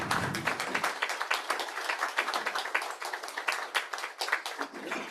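Applause from people gathered at the inauguration of the MERU Vastu apartments, a steady patter of handclaps close by that carries on throughout without any talk.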